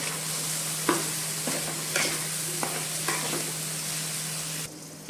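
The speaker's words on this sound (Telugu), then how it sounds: "ఒక టీ స్పూన్ అల్లం వెల్లిపాయ పేస్ట్, ఎర్రగా ఏగనివ్వాలి." Ginger garlic paste frying in a pan for a coconut milk fish curry: a steady close sizzle with several scraping stirring strokes, then the sizzle drops abruptly near the end.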